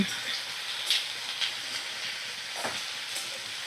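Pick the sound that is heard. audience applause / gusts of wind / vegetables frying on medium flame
vegetables frying on medium flame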